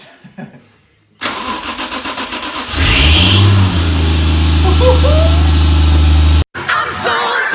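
A Toyota Soarer with a 1JZ engine and Holset HE351 single turbo cranks with a rhythmic starter churn, then fires into a loud, close roar and settles to a strong idle before cutting off briefly. A person talks near the start.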